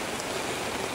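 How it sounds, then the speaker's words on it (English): Steady rain falls on an empty campground during a wet summer, a dense, even hiss of drops pattering on surfaces with no voices. "Yet another day of rain."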